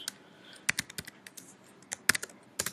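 Computer keyboard typing, quick irregular clusters of sharp keystroke clicks close to the microphone over a faint background hiss, with no voices.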